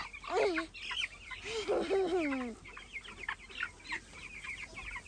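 Chickens cluck and squawk close by in short, warbling bursts, one loud drawn-out call standing out early, with soft background noise and no clear speech.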